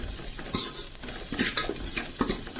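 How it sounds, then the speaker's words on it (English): Onions, garlic and green chilies sizzle in hot oil in a pan for a South Indian radish and potato sambar, with a spoon scraping and stirring at irregular intervals over a continuous frying hiss. "the onions are turning brown"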